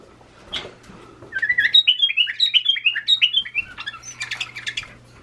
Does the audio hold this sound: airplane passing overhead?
no